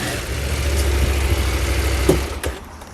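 A motorcycle engine idles steadily and close by while the bike is eased up a single loading ramp, the low rumble holding even with a brief bump near the end.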